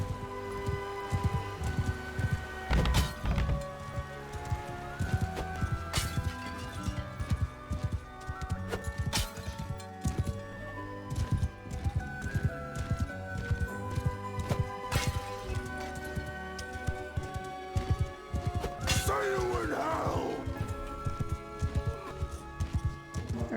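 Horse hooves clip-clop steadily over the ground while riding in the medieval combat game Mount & Blade II: Bannerlord, a continuous rhythmic patter of hoofbeats up close, with occasional louder thuds and clanks mixed in.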